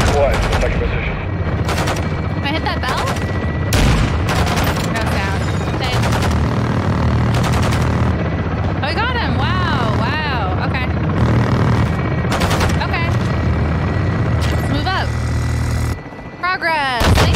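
Battlefield din from Call of Duty: Modern Warfare II as an artillery strike is called in, with heavy booms, rapid gunfire bursts and a helicopter, loud and continuous with voices breaking through.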